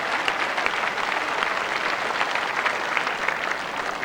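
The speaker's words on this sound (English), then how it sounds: "Applause for a successful firing shot in another rink" Steady, even applause from spectators at a 1984 World Singles lawn bowls final greets a successful firing shot on another rink, a continuous clapping texture at moderate distance.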